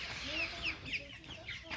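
Big-6 turkeys clucking close by in a short run of chirpy, repeated calls, steady and fairly loud, with no talk over them.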